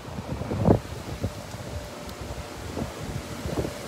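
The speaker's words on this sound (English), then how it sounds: "We're getting 50 mile per hour wind gust." Strong 50 mph wind gusts roar through a backyard during a supercell thunderstorm in Kingsport, Tennessee, a constant rushing buffet against the microphone with sharper gusts swelling at intervals.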